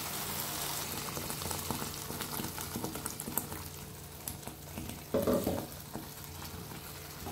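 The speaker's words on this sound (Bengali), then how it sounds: "মশলাটাকে ভালো করে আমি কষে নেব।" Spice paste with a splash of water being sautéed in a pan for a Bengali paneer dish: a continuous close bubbling sizzle, with one louder burst of stirring and scraping partway through.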